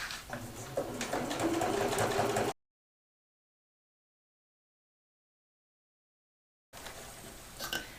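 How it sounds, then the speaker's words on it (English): A sewing machine stitching around a pocket, running in a loud continuous whir, then a long silent gap before it starts up again. "we're going to head over to the machine and stitch all the way around this pocket to tack it down"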